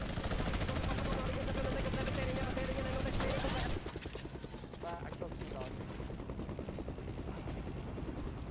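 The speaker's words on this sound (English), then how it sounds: "They're on the helicopter." A helicopter in the Fortnite video game whirs with a dense, loud rotor drone, overlaid early by rapid gunfire bursts, then settles into a steady, slightly quieter chopping hum.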